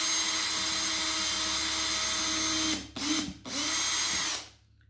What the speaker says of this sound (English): I'm just going to drill a hole straight through.